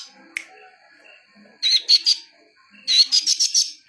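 A caged masteran bird gives odd calls: a single sharp note, then two bursts of rapid, raspy chattering squawks, close and loud with quiet gaps between them.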